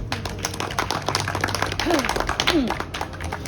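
An audience applauding to welcome a speaker, a close, steady patter of many hands clapping throughout, with a few brief vocal sounds mixed in.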